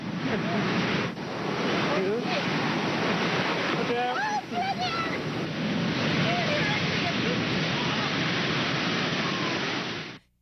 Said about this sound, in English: It shows just one of the massive waves that came crashing down on unsuspecting beachgoers.